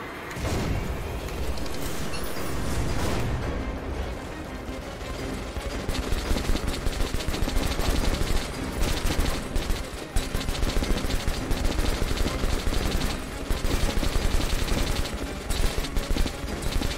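Sustained automatic gunfire in Metro: Last Light, loud and close, with continuous rattling bursts that turn into sharper, evenly repeated shots in the second half.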